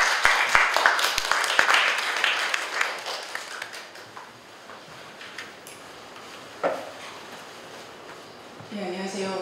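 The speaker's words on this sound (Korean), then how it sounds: "박수로 맞아주시죠." An audience at a Korean film and copyright forum applauds to welcome the next presenter, with dense, loud clapping that fades after a few seconds, then quieter room sounds and a brief voice near the end.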